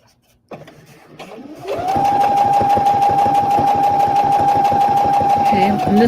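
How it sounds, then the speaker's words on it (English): A sewing machine stitches a zipper onto a pillow right beside the zipper teeth. After a few soft clicks the motor spins up into a steady, fast, close mechanical whir with a rapid needle patter. "And then we're going to start sewing."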